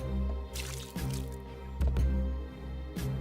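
In a video game, water drips and splashes in a few distinct plops and splats over a constant low hum, each drop sharp and close.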